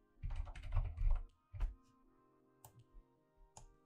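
A burst of keystrokes on a computer keyboard entering a terminal command, a close flurry of clicks followed by a few isolated taps, with no talking.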